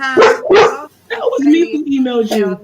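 A big German Shepherd lets out two loud, close barks in quick succession, followed by a person talking.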